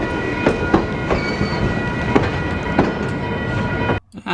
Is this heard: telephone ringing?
no